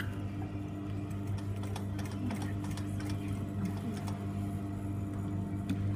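Sewing machine back tacking along trim lining, a steady close mechanical whir with rapid ticking stitch beats and short stop-start pauses, no talk over it.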